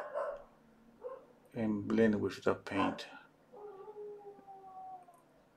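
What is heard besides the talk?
dog crying and howling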